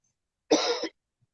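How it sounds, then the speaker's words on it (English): A single short, close cough in an otherwise quiet moment. "He coughing."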